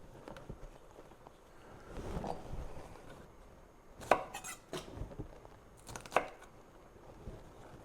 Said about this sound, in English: I kind of like cutting the green beans